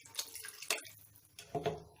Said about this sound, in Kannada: ಇನ್ನೊಂದು ಅರ್ಧ ಕಪ್ನಷ್ಟು ಎಕ್ಸ್ಟ್ರಾ ನಾನು ನೀರು ಹಾಕೋತಾ ಇದ್ದೀನಿ.